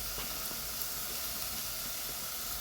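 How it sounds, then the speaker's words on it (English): A small portion of minced beef sizzles in a hot pan in a home kitchen, giving a steady, close, even hiss of frying with no voices. "So we have our minced beef here, and I'm going to cook a small portion."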